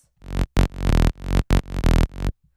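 A buzzy, bright synth bass with a raw saw-wave tone plays a short rhythmic pattern of several sustained notes with brief gaps between them.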